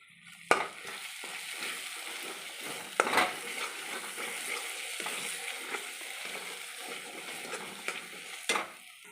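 Spice masala for chicken balls frying and being stirred in oil until the oil separates: a continuous close sizzle broken by repeated scraping strokes of a spatula against the pan, with a few sharper clanks.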